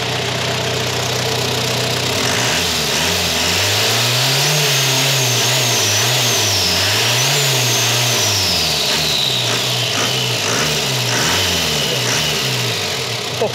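Isuzu Adventure 4x4 direct-injection diesel engine revs repeatedly under load, a loud, close, rough clatter that rises and falls in steady waves, with turbo whistle climbing and fading above it.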